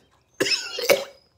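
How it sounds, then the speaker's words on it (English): A single harsh morning cough, close and fairly loud, splits into two rough bursts over about a second in an otherwise quiet room. "I get a morning cough."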